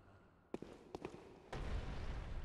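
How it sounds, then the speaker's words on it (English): A few heavy thuds knock in quick succession, then a loud, continuous grinding rumble sets in as a boulder rolls close by in the video game Bloodborne. "Sounds like a boulder. That's a boulder."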